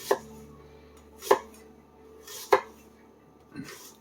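Onion being chopped on a board with a freshly sharpened Pacific Saw Works chef knife: four distinct, sharp knife strikes spaced about a second apart, close and clear, with no talking.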